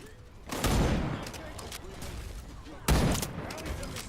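Gunfire in the shooter game Wild Assault: two loud, close bursts of rapid shots, the first near the start and the second about halfway through, with quieter battle noise between them.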